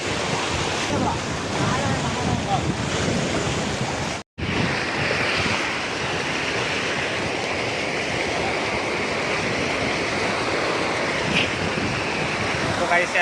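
Floodwater surges in broad, sea-like waves during a severe flood, with heavy wind buffeting the microphone in a constant loud roar, briefly cut off once before resuming.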